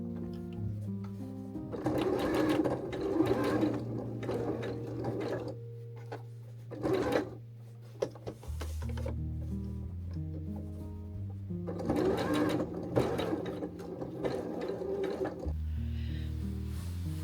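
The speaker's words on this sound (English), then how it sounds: "And then I think I will probably come along to this section here and stitch here" Sewing machine stitching a vintage tray cloth, several bursts of rapid mechanical needle chatter over a low motor hum, with pauses and small clunks between runs, heard close and fairly loud.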